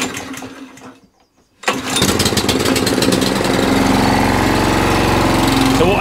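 A Qualcast 35s cylinder lawn mower's small petrol engine cuts in after a brief silence and settles into a steady, close, loud idle with an even throaty drone.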